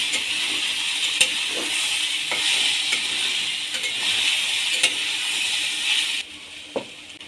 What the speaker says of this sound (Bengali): অল্প পরিমাণে হলুদ গুঁড়ো, অল্প পরিমাণে লঙ্কার গুঁড়ো দিয়ে ভালো করে ভেজে নেব।